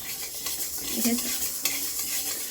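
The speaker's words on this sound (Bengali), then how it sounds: "এ দেখো মুগের ডাল ভাজা চলছে" Mung dal dry-roasted in a pan for khichuri, with a close, continuous soft sizzle and irregular scraping stirs of a utensil against the metal. No voices are present.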